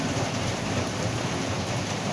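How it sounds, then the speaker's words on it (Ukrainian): Heavy rain pours down steadily during a thunderstorm in a yard with an open pit, making a dense, loud, continuous wash of noise with a low rumble beneath. "Ну, вроді би втихає, а потім знову гримить і знову ще дужче лє."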